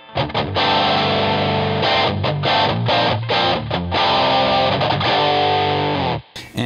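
A distorted electric guitar chord rings out loudly, strummed repeatedly in short rhythmic bursts, then a final stop.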